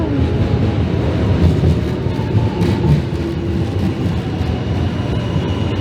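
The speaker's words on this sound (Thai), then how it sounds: "รถไฟมาแล้ว" A train in South Korea rumbles steadily at close range as it pulls into a station, a continuous low roar with metallic rail noise, no voices.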